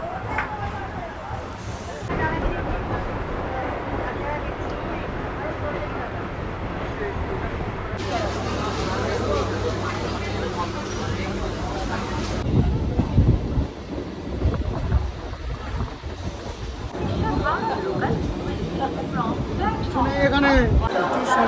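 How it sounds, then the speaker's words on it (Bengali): A Howrah local passenger train rumbles at a crowded station during the Tarakeswar Shravan fair pilgrimage. Its low rolling noise sits under loud, continuous crowd chatter and a nearby speaking voice. "যেই ট্রেনটা থেকে নামলাম এই ট্রেনটা কিন্তু একদম হাওড়া লোকালে আবার হাওড়ার দিকে কিন্তু চলে যাবে।"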